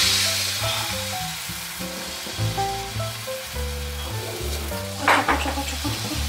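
A thin egg crepe fries over low heat in an oil-free non-stick pan, giving a continuous soft sizzle with a brief burst of scraping near the end, all under background music.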